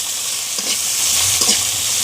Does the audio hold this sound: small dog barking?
no